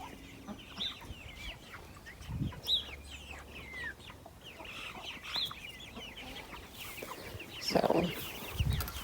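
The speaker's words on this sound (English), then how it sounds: "I think quite a bit of them were roosters." Chickens and roosters clucking inside a coop, several birds calling in short, overlapping bursts at moderate distance, with a few louder low thumps and rustles among them.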